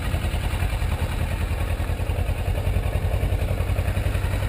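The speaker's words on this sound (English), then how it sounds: "slowly start letting off the clutch, and you'll feel the bike start to move" A motorcycle engine runs steadily as the bike pulls away slowly in first gear with the clutch easing out, a constant close, low, throbbing drone with no voices.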